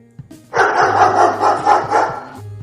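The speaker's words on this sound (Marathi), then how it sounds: "डॉग" A domestic dog barks in a quick run of loud, close barks lasting about two seconds, with a faint low hum underneath.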